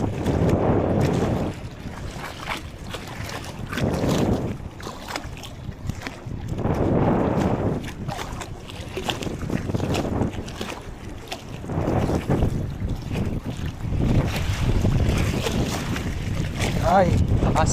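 Strong wind at sea roars and buffets the microphone in rising and falling gusts while fishing, with water sloshing and a voice speaking faintly beneath.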